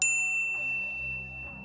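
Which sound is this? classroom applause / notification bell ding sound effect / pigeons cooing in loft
notification bell ding sound effect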